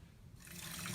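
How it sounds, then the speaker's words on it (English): Water from a tap rushes into a folded paper origami water bomb, a steady gushing pour that starts softly and swells louder partway through, close and with no voices. "you take this under the tap and you can fill it with water"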